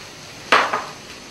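Boiled vegetables, French beans, cauliflower and peas, are stirred in a pan for sautéing, giving two quick metallic clanks of a spoon against the pan, close and clear, with no talking.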